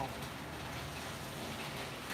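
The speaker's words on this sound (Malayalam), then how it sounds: "സൂപ്പർ മഴയാണ് അല്ലേ നല്ല മഴ" Steady rain pours down in a continuous broadband hiss, close and fairly loud, with no break across the short stretch.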